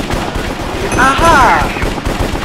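Rapid video game gunfire in Sky Wars crackles in a dense, fast burst for a couple of seconds, fairly loud, with a player's voice talking over it.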